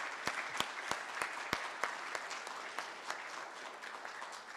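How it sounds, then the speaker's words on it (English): A small banquet audience gives a band student scattered applause, with a few sharp, distinct claps standing out over a soft, thin patter that continues throughout. "If we could give him a round of applause, please."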